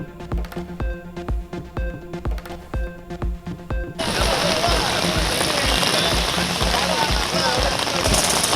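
Rain pours steadily during a street protest by sanitation workers. The downpour becomes a loud, continuous hiss halfway through, after a stretch of sharp ticking and tapping sounds.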